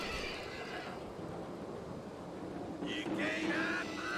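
A horse neighs in the Wild West shooter video game Call of Juarez Gunslinger, giving a short whinny toward the end over quiet ambient background, fairly faint overall.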